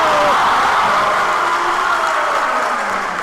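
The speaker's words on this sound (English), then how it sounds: "And the crowd erupts." A high school basketball crowd erupting in cheers during a boys' varsity playoff game in a gym: a loud, sustained roar of voices that fills the room and eases off only slightly toward the end.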